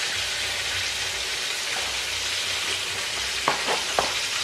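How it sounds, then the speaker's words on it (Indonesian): Food frying in a pan gives off a steady, close sizzling hiss, with a few short clinks of a utensil against the pan near the end. "Mbak Sur mau goreng ini juga."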